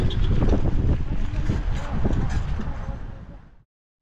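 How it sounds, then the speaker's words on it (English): Strong, cold outdoor wind buffeting the microphone with rough low rumbling gusts, loud and close, then cutting off abruptly near the end. "So it's currently not very warm out there and very, very windy."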